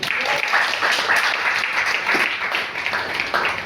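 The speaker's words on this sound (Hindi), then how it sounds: "मुझसे सहमत है तो ताली बजाए।" A church congregation at a Sunday sermon in Kadodara claps together, a loud, dense, steady wash of applause filling the room with little else heard.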